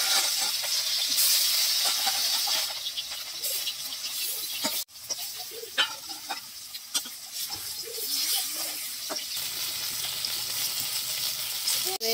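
Fish salted and coated with turmeric fries in mustard oil, giving a loud, continuous hissing sizzle with occasional pops and a few clanks of utensils, heard up close throughout.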